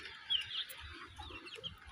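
Native free-range chickens clucking on a small farm, soft irregular clucks and calls scattered over two seconds, moderately near, with no talking.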